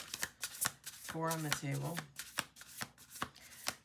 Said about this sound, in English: We're gonna do 2 more shuffles.